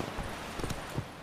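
Horse hooves clip-clop softly in The Witcher 3 video game, a handful of faint, irregular hoof strikes over a low background wash.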